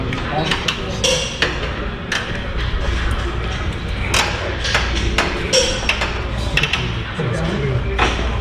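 Sharp metallic hammer strikes on an anti-roll bar bracket under a 2010-2014 Ford Mustang GT500, a dozen or so irregular clanks and pings over a low garage background.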